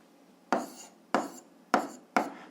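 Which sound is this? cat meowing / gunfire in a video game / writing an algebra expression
writing an algebra expression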